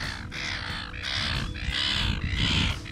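Birds gather at a sand bar sanctuary at Point Walter jetty in Perth, giving four or five rough, harsh squawking calls in a regular rhythm over a steady outdoor rumble, fairly close.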